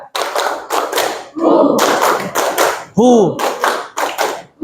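A classroom clapping game during an ice-breaking activity: the class claps in loud, sharp bursts in a counted rhythm, with brief chanted voices in the pauses between sets.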